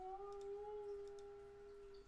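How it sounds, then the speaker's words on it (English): A pet dog howls in a long, steady, wavering tone that holds for about two seconds, moderately close and alone with no talking over it. "My dog wants to play."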